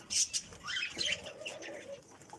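Free-flying pet pigeons or doves give faint, soft coos mixed with a few light chirps and a brief flutter of wings nearby.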